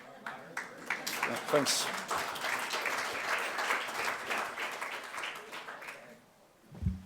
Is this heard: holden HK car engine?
no